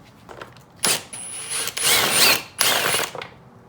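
A power tool backs an Allen head bolt out of the plastics on a Yamaha YFZ450 ATV during teardown, in three short whirring bursts of rising and falling pitch with pauses between, close by.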